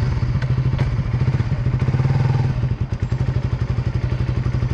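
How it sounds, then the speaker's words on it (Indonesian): A Suzuki Raider 150 Fi motorcycle engine runs loud and close after being started, its rapid throbbing pulse steady throughout with a few clattering knocks. "so far apa yang aku suka pasal motor ni, dia punya start dia paling senang lah."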